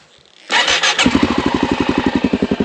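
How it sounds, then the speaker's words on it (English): A motorcycle engine turns over with a short whirring crank, then catches and settles into a loud, close, rhythmic idle pulse with no talking. "after I get this motor to start"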